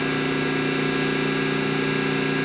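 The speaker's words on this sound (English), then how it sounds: "So I'll start up the spindle." An 18-inch DCM Technologies IG-180-M vertical spindle rotary surface grinder spindle runs up at about 1800 RPM, giving a steady, loud mechanical hum with stable tonal whine and no talking.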